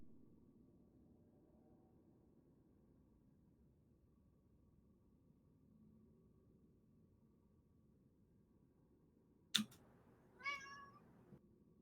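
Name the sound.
cat meowing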